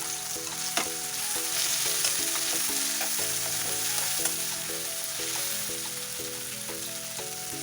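Tomatoes frying with chili powder and turmeric for a vegetable curry, a steady close sizzle with spoon scrapes and stirring clatter throughout, no voices.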